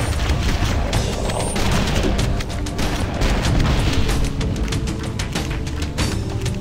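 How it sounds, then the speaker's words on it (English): In the video game Halo: Combat Evolved, a grenade goes off amid dense battle noise, with heavy booms and crashing bursts layered over continuous gunfire and rumble. "grenade out."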